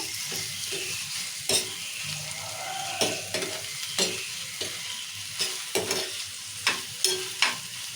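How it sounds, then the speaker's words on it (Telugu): Onions and tomatoes fry in oil for an egg curry, giving a steady sizzle broken by sharp clacks of a spoon stirring against the pan, close and with no talking. "టమాటా కూడా నూనెలో మంచిగా ఉడికించుకోవాలి"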